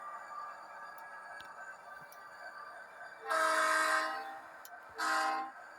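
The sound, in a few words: FP45 locomotive running with throttle up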